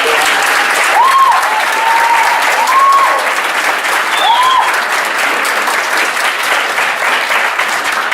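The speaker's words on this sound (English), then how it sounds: "thank you, everybody, for that round of applause" Steady round of applause from the audience at an athletics awards ceremony, dense clapping held at an even level for about eight seconds, with faint voices and a few whoops mixed in.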